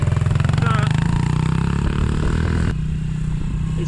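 A pit bike's small engine revs hard and steadily while being ridden, throttle held then easing back, loud and close with a buzzing, pulsing note.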